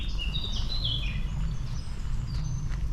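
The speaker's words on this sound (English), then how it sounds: "Sorry birds." Birds singing in Savernake Forest woodland near the car park in Wiltshire, scattered high chirps and short song phrases over a soft, steady outdoor background.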